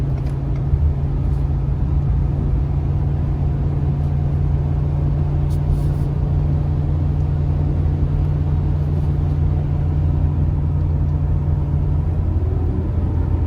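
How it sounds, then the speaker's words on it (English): A 2019 Ford F-450 Limited pickup with 4.30 gears, towing about 30,000 lbs uphill at full throttle in fourth gear, gives a loud, steady low engine drone and road rumble from inside the cab, unbroken and without talk. "Oh, down to 4th gear. I am about, well, now I've got it full throttle."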